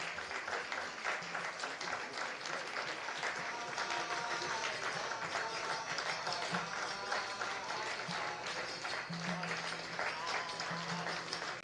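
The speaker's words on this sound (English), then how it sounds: "A big round of applause for all of them." Sustained audience applause for book distribution teams at a spiritual literature book marathon prize event, dense steady clapping throughout with a faint tone underneath.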